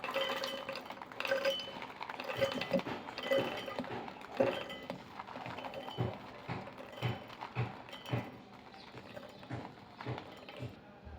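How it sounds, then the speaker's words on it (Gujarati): Pigeon pea grains tumbling into a mixer grinder jar, a run of small clinking, rattling impacts with irregular bursts, close and moderately loud, with no talking. "હવે આ તુવેરના દાણાને હું આવી રીતે મિક્સરમાં એડ કરી દઉં છું"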